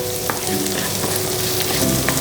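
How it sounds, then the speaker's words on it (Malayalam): Sliced small onion sautéing in a hot oiled pan for fried idli, a dense, steady sizzle and crackle close up, with no voices. "ഇനി നന്നായിട്ടൊന്ന് വഴറ്റിയെടുക്കാം."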